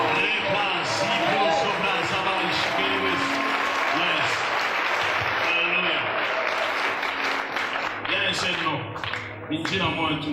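A congregation at a revival meeting breaks into sustained loud applause and cheering for the name of Jesus, with voices calling out over the clapping throughout.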